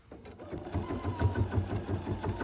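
A quilting sewing machine stitches edge to edge across a quilt, starting up and settling into a rapid steady mechanical chatter, close and moderately loud, with no talk.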